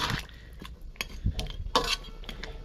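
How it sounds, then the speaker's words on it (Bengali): A spoon scrapes and knocks against a cooking pot while potatoes and spices are stirred into a spicy beef curry, with irregular bursts of scraping and clinks between quieter moments and no talking. "এখন আলুর সাথে মশলাগুলো ভালো মতো মিক্স করে মাংসের সাথে"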